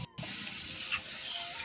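Onion dropped into hot oil, a steady close sizzling hiss following a brief pause at the start, continuing evenly.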